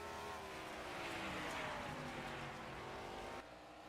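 Race cars lapping the Bristol oval in a racing video game, a dense continuous engine roar with overlapping cars, loud and steady before dropping off abruptly near the end.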